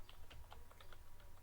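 Typing on a computer keyboard while working in Excel, a steady run of quick light key clicks, faint and close, with no talk.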